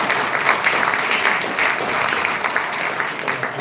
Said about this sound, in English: give a round of applause to all the employees